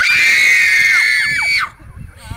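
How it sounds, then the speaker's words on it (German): A girl screams loudly and shrilly for about a second and a half, the pitch wavering and dropping at the end before cutting off, then quiet background sound follows. "Mädchen schreit"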